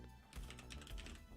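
Brief run of computer keyboard typing, a handful of quick soft keystrokes close to the microphone at low volume, with no talking.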